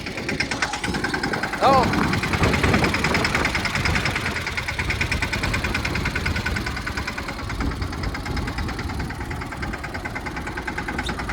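A tractor engine chugs and rumbles continuously at a steady idle, with voices talking over the running motor.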